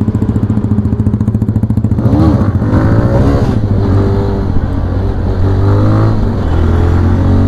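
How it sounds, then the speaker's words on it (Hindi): A Benelli 300 and a Yamaha R15 motorcycle fitted with SC Project exhausts rev hard nearby at night, a fast pulsing idle breaking into repeated loud throttle blips and a sustained raspy roar. "तो गाइस अभी आप लोग साउंड चेक करना भाई बिनेली का और R15 का।"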